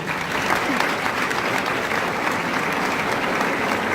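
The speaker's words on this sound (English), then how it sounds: "Let's give her a round of applause." Sustained audience applause at a school graduation and awards ceremony, a dense, even clapping crowd filling the hall at steady loudness for the whole stretch.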